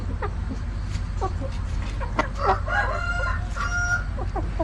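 Chickens in a poultry pen cluck steadily while a rooster crows partway through, the calls overlapping against a constant low hum of the coop.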